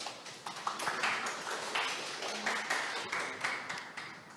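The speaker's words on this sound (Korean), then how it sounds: "박수로 맞이해 주십시오." Conference audience applauding to welcome a speaker on stage, a fairly faint, steady patter of many hands clapping at a distance.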